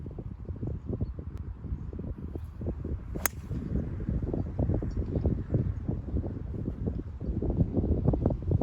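Steady gusting wind on a golf course buffets the microphone with low rumbling bursts, and a single sharp golf-swing swish cuts through partway.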